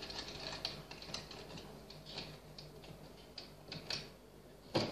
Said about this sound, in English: I'm going to just quickly loosen the legs.